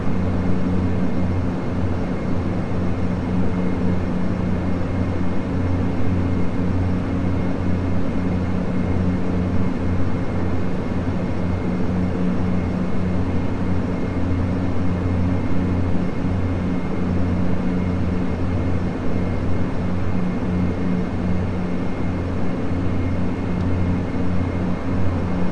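Steady, droning Cessna 207 piston engine in flight, a continuous even hum with strong low tones and no break or change across the whole stretch.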